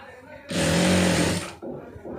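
A sewing machine runs a single continuous burst of stitching along a folded hem for about a second, loud and steady with a buzzing motor tone, then stops abruptly into quieter room noise.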